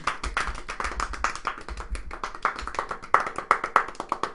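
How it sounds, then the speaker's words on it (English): A slow, sparse golf clap: a single person's hands tapping together in quiet, evenly spaced claps, close and dry, roughly a dozen soft pats. "Your golf clap's not up to scratch."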